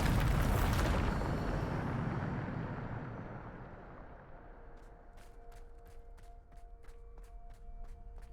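A Bombarda blast in Hogwarts Legacy erupts loud and broadband, then decays into a long rumbling tail, with a run of sharp sparkly clicks and a faint tonal hum fading in toward the end.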